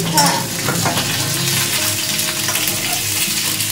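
Slices of pointed gourd frying in oil while being stirred, a loud continuous crackling sizzle with a few clinks of the spatula against the pan, with no voices.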